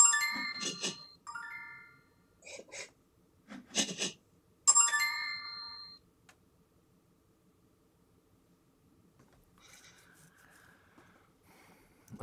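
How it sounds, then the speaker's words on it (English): Bright bell-like chimes from the Quoridor board video game, several short ringing tones in quick succession early on, then quiet with faint tonal traces later. "I like how there's a bell to confirm to me that I've done well each move."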